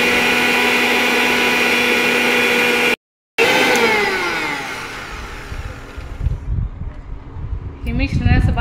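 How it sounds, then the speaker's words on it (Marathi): Mixer grinder blending wood apple chutney with coriander leaves: a loud steady whirring motor that cuts out briefly, restarts, then grows rougher and more uneven as the mixture churns, ending with rattling bursts. "हे सगळं मिश्रण आपण बारीक करून घेऊ।"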